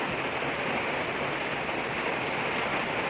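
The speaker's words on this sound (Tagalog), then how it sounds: "Madilim ngayon ha, makulimlim ang panahon, lakas ng ulan." Heavy rain pours down steadily in gloomy, overcast weather, a dense even hiss with no pauses, close and loud throughout.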